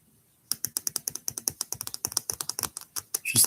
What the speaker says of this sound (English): Just tapping on my cards.